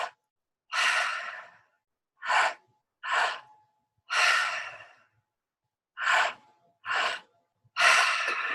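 Deep belly breaths during a guided breathwork session: seven slow, airy inhales and exhales in an uneven rhythm, close and fairly loud, separated by silence.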